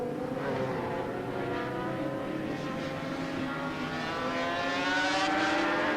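Norton and Suzuki racing motorcycles at a 1988 circuit race drone past in a continuous engine whine, harmonic pitch gently sliding as the bikes hold speed, moderately distant and steady for several seconds with no voices.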